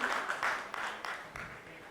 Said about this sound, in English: Ladies and gentlemen, a huge, huge round of applause for Mr.